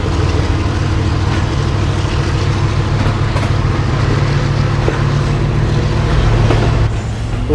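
Inside the Pak Business Express passenger train running near Sahiwal, a loud, continuous low rumble and rolling rail noise holds steady, easing slightly only at the very end, with no voices.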